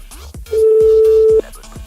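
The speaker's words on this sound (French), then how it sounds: "Tout de suite, nous appelons Frédéric Estier" A telephone ring tone as a French radio morning-show host calls a guest: one steady electronic tone lasting under a second, with backing music underneath.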